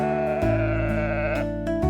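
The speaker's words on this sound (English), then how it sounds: "The sheep says, "Ba!"" Sheep bleating loudly and steadily at close range, a sustained wavering bleat with a second call starting partway through.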